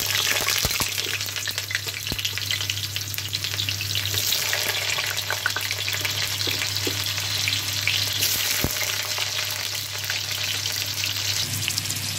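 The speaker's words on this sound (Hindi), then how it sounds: "इसी तरह मैं थोड़ा सा पपीता को भून लूंगी।" Raw papaya pieces fry in a pan for a vegetable dish, a loud, steady, close sizzle throughout with a few faint stirring knocks and no voices.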